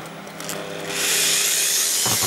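A homemade jar tumbler filled with ball bearings and small parts starts up and turns into a loud, steady, hissing rattle that runs on without a break. A few duller knocks come through near the end.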